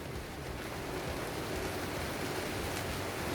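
A downpour drums steadily outside a garage, a thick, unbroken wash of rain noise with a low rumbling undertone, loud and even for the whole stretch, no voices.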